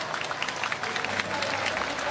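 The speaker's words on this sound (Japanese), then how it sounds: "皆さん拍手。" Steady clapping from an audience at a Tokyo Game Show 2024 stage event, dense and continuous for a couple of seconds, with faint crowd murmur mixed in.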